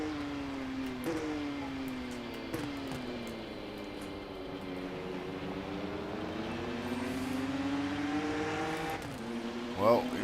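Race car engine in the Rennsport racing game revving near redline, a steady high whine rising and falling through gear shifts, with a voice talking over it.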